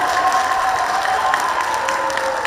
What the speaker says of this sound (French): Applaudissez Marianne Touré